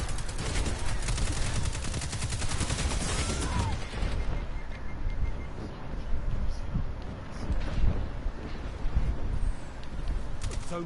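Rapid automatic weapon fire in the shooter game Destiny 2 rattles in dense, continuous bursts over a game soundscape. The fire is loudest in the first few seconds, then scattered shots and effects follow.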